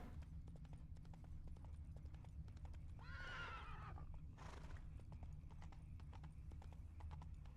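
A spooked horse whinnies sharply in The Witcher 3: Wild Hunt over a steady low rumble and faint clip-clopping, with another breathy snort right after.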